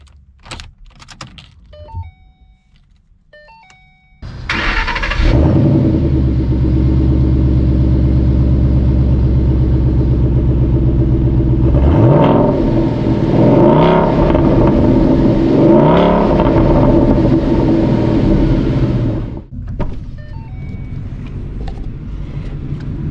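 A Ford Mustang Boss 302 Laguna Seca V8 cranks and fires up a few seconds in, settling into a loud, rumbling idle, then revs in several rising blips before cutting off, with no talking.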